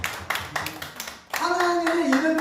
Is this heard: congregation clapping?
yes